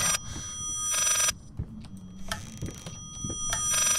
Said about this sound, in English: There's a ringing phone and I can't answer it.